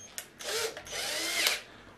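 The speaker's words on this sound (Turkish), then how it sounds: "Şuraya getirdiğimizde matkap özelliği devreye giriyor. Şu an yavaş devirde, şu an hızlı devirde." A handheld power drill runs in short bursts, whirring up to a high whine at slow and then fast speed, close and fairly quiet, with pauses between runs.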